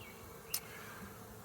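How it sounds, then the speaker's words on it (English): Honeybees being installed in a hive give off a faint, steady buzzing, with a single brief click partway through. "Now the bees are free, and I'll start exploring the hive"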